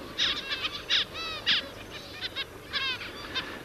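Zebra finches in the Australian wild give repeated short, nasal, trumpet-like calls in quick bursts, close and clear over a soft outdoor background.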